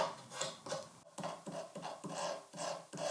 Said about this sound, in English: so I scrape away the old glue